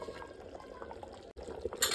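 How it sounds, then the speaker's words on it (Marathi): Water is poured into chicken gravy cooking in a pot at an outdoor field meal in a village, giving a short, soft liquid splash and trickle with a brief break and a clink at the end. "टाकू थोडंसं पाणी."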